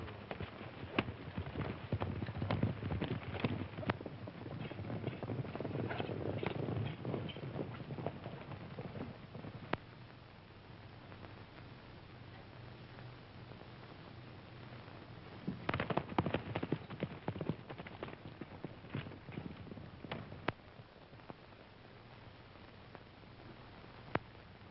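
Horses ride off in an old western film, their hooves clip-clopping in a steady busy patter that comes through loud at first, eases off, then swells again, over a hissy, band-limited old soundtrack.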